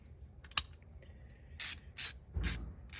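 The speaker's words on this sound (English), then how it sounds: "So we'll have our ratchet, then our T50 Torx bit." Ratchet with a T50 Torx bit loosening a seat bolt in a 2023 Toyota Tundra, a sharp click followed by several quick, close ratcheting bursts.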